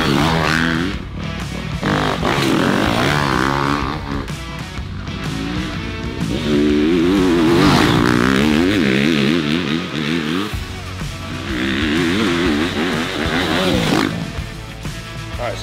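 A 2025 Yamaha YZ250FX dirt bike engine revs repeatedly at an Ironman GNCC off-road race, rising and falling loud close whines in several bursts with short gaps between.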